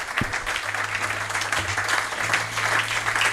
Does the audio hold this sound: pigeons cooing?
no